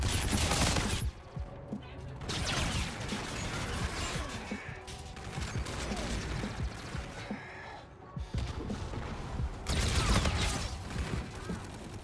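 Gunfire in the shooter game Call of Duty: Infinite Warfare comes in loud, dense bursts of rapid shots, with short gaps and mechanical clatter between them.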